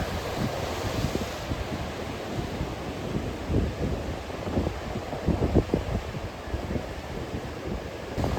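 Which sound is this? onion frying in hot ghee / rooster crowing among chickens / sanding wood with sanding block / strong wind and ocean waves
strong wind and ocean waves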